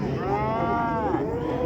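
A cow moos once in a long, drawn-out low call at a busy livestock market, standing out clearly against the crowd's background murmur.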